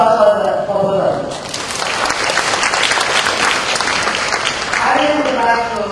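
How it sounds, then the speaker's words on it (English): Big burst of audience applause at a Southeast Asian librarians' congress, dense clapping from a large crowd swelling and holding steady for several seconds, with a voice speaking briefly at the start and end. "very big applause for them"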